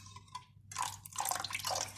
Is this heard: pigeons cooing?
no